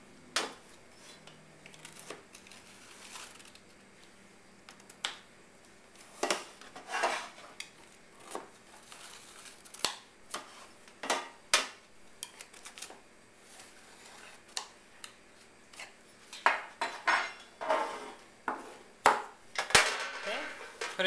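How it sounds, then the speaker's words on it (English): A knife scrapes and clinks along the edges and corners of a metal brownie pan in short, irregular bursts, growing busier toward the end, with no speech. "run a knife along the edge of the pan"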